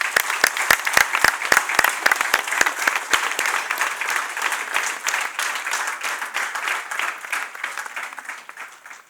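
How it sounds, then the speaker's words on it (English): An audience at an armed forces tribute program breaks into applause, opening with crisp distinct claps that quickly swell into dense, sustained clapping from a large crowd, fading slightly toward the end. "I think they deserve a round of applause."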